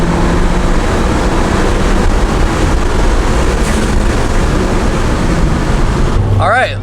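A Ford Fiesta ST with a hybrid turbo accelerates at full throttle in third gear, a loud steady engine and wind roar that fills the cabin, then drops off sharply at the end.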